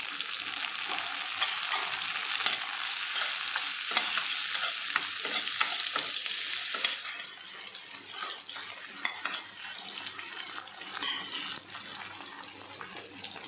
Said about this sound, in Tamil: வெங்காயம் நல்லா வதங்கிடுச்சு. இந்த தக்காளியும் சேர்த்துக்கலாம்.